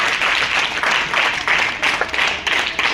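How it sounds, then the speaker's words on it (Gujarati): A school audience at a child-protection event in an ashram school gives loud, dense, continuous applause welcoming guests, steady throughout. "જોરદાર તાળીઓથી."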